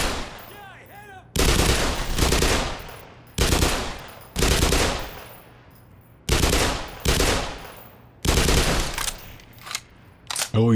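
Heavy gunfire in the video game Black Mesa, several loud bursts of rapid shots separated by short pauses, with brief quieter gaps between volleys.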